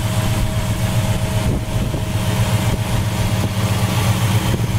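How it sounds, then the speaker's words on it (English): Close recording of a 1975 Dodge Dart with new dual exhaust and headers idling, a steady low engine rumble with an even, unbroken tone throughout and no one talking. "Engine runs nice. It's got new dual exhaust,"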